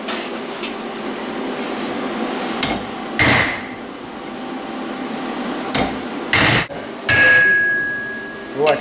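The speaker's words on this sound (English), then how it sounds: "hit it with a metal hammer" Several sharp metallic hammer strikes on a socket ring out at irregular intervals over steady background noise, each blow clanging briefly with a short metallic ring.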